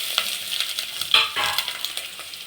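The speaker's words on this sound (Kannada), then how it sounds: "ಸ್ವಲ್ಪ ಇದು ಎಣ್ಣೆಲಿ ಫ್ರೈ ಆಗಲಿ." Chopped onions and curry leaves frying in hot oil, a steady close sizzle with occasional stirring scrapes and a brief louder burst partway through.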